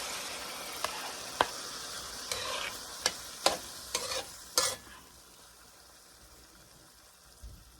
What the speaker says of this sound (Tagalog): then mix it well.